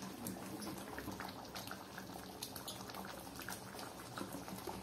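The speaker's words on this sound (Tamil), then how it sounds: "இப்ப இங்க கொதி வந்துட்டு இருக்கு. கொதிக்கட்டும்." A ginger candy mixture bubbles away in a pan with a continuous, soft, dense simmering crackle, fairly faint and steady, with no talking.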